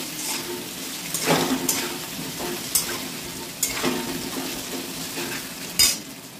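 Potatoes seasoned with salt and turmeric fry in hot oil, giving a steady close sizzle broken by a few sharp scrapes and clinks of a spatula against the pan.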